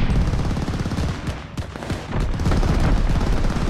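Rapid automatic gunfire in the Call of Duty Vanguard multiplayer game on PS5, a loud, close stream of shots and bursts that dips briefly midway before resuming hard, with no talking over it.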